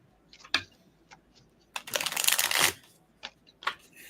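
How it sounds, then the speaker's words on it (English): Small tarot cards the size of playing cards are shuffled by hand, with a few soft taps and clicks before a burst of riffling, then more scattered card taps, close and quiet. "I'm having a hard time shuffling them because I'm so used to the big guys"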